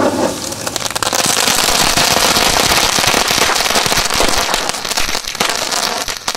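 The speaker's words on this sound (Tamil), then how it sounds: "இந்த வெடிமீன் சரம் எப்படி வெடிக்கும் அப்படின்னா இப்படி வச்சுட்டு நம்ம பத்த வச்சோம் அப்படின்னா இது வழியா நெருப்பு போயிட்டு பட பட படம் சரவடி வெடிக்கிற மாதிரி வெடிக்கும்" A string of firecrackers set off in an open village spot explodes in a loud, rapid, continuous crackling burst of pops that runs for several seconds before thinning slightly toward the end.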